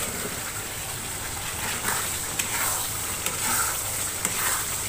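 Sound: eggs stirred and frying in spiced oil for egg biryani

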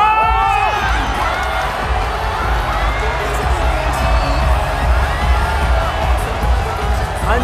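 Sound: crowd applauding and cheering

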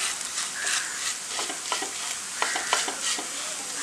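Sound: sautéing and mashing spice powders with potato in a pan

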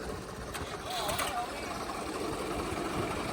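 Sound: tractor engine running

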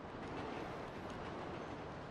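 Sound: train passing in GTA V video game

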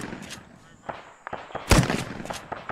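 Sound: gunshots in Arma video game

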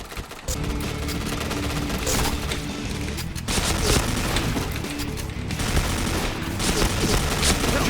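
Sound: gunfire in the video game Point Blank

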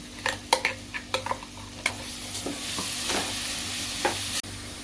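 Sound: green masala paste added to hot oil, sizzling

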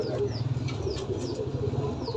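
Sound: pigeons flapping wings

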